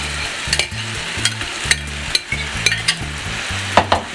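Chicken cooking in a creamy mushroom sauce in a pan, a continuous close sizzle with bubbling and repeated short stirring scrapes throughout.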